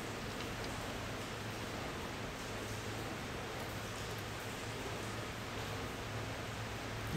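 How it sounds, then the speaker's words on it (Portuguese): Steady heavy rain falls in an even, continuous wash of noise with no other sounds standing out. "Vai durar um bom tempo essa chuva."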